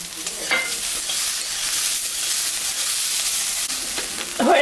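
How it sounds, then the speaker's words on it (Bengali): Fried prawns with garlic, chilli and black cumin being stirred in a hot pan, a steady bright sizzle with a few scraping stirs of the spatula near the start and end. "আর একটু নাড়াচাড়া করে নেব।"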